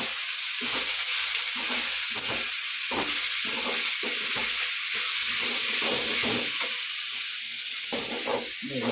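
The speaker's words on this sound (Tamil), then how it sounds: "இந்த ஏறாவை இறாவை போட்டுடலாம் கழுவி தோலெல்லாம் உரித்து கழுவி க்ளீன் பண்ணி வச்சுருக்குறோம்" Cleaned, peeled prawns fry in a pan, giving a loud, steady sizzle with frying hiss throughout, broken by short stirring and scraping bursts, close up and with no talk.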